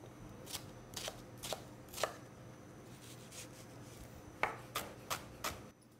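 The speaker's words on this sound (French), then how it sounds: "Concassez votre ail." A knife chops garlic on a cutting board in sharp, regular close knocks, a few at a time with short pauses, in an otherwise quiet kitchen.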